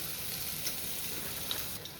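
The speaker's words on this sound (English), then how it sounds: "The frozen broccoli goes in first since it takes the longest to cook." Frozen broccoli sizzles in a generous amount of oil in a frying pan, a steady close hiss of frying with faint crackles throughout.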